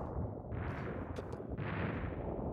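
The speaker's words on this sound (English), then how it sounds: "Ooh, that was quite an explosion" A very powerful bomb blowing up in the video game Gunple, a loud, dense, roaring blast whose rumble fills the whole moment and keeps churning without a clean break.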